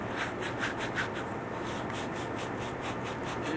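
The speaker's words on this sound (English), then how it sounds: "And you can also use a wire brush to clean the copper fittings." Steady abrasive rubbing on a 3/4 inch copper 90-degree pipe fitting being cleaned by hand, a continuous scratchy scrubbing with a faint repeating stroke rhythm, close and fairly quiet with no talk.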